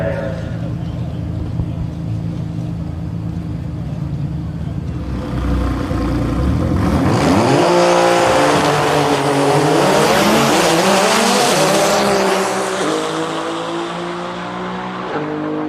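An Audi drag race car roars down a drag strip at around 150 mph, its engine note building loudly from about five seconds in and sweeping in pitch as it passes close by, with an announcer talking over it.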